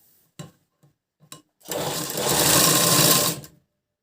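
Sewing machine stitching the shoulders of a blouse together: a few soft handling clicks, then a loud, steady whirring run of about two seconds that stops abruptly, close up with no talk.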